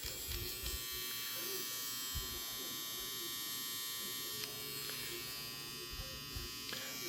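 A Peak Solice Mini wireless tattoo machine hums with a steady, even electric buzz throughout, fairly quiet and close, with faint background sounds and occasional small clicks.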